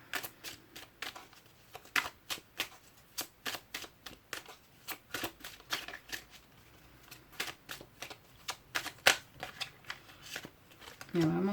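Oracle cards being shuffled during a reading, a steady run of quick crisp riffling snaps repeating close by with brief pauses, ending in a soft bump.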